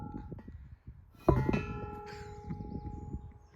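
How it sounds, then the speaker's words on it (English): A bell on a smallholding is struck once with a clear, ringing tone that sustains and slowly decays, preceded by faint rustling and followed by quiet background noise. "It's a nice bell."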